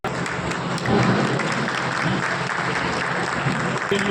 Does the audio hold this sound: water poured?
no